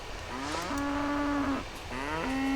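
Cows mooing on a farm in the video game Coral Island, two long drawn-out moos in close succession, clear and fairly loud against a soft ambient background.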